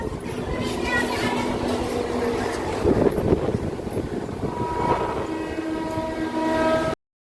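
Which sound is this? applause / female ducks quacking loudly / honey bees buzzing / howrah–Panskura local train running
howrah–Panskura local train running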